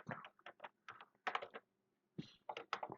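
Someone types a worksheet name on a computer keyboard, giving clustered bursts of close keystrokes separated by short pauses.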